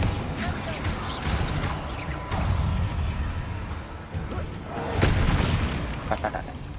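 Blasting explosion spell in Hogwarts Legacy, heavy booming bursts and crashing impacts layered over dense game noise and music, loud and continuous with swells near the middle and end.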